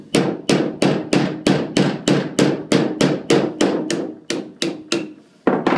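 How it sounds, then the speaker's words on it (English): A hammer strikes a screwdriver into a coconut repeatedly in a steady rhythm, about a dozen sharp, ringing blows close by, with a brief pause before the last hit. "If that's harder, just take a hammer and you hold it straight."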